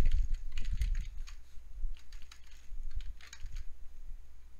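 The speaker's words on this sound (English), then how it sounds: "Ugh, I don't like typing your name" Fast, irregular clatter of keys on a computer keyboard, close and fairly quiet, with bursts of quick strokes and short pauses, alone without speech.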